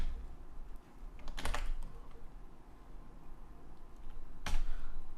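Computer keyboard typing at close range, with soft keystrokes and a couple of sharper clacks as a PHP form field name is entered, and no voices.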